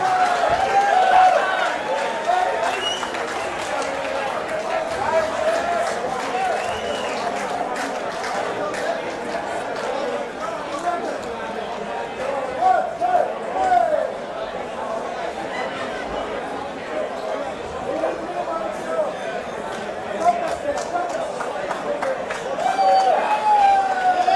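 A fight-event crowd at SuperFight 10 claps and cheers for the welterweight champion, a long wash of applause and crowd babble with voices and shouts on top, fairly loud throughout.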